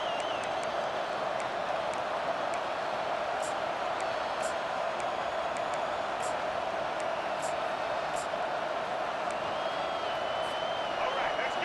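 Steady stadium crowd roar from a college football game in EA Sports College Football 25, a constant loud wash that fills the whole clip, with faint commentary-like voices beneath it.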